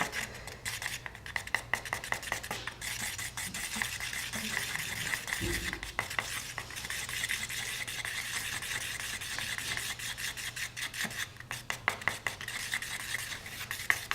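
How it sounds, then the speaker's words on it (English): Tempera paint being stirred with the plastic end of a paintbrush, a steady close-up scraping and rubbing with quick irregular strokes that continues for the whole stretch, with no talking. "mixing with the plastic end of the paintbrush, not the soft bristly part"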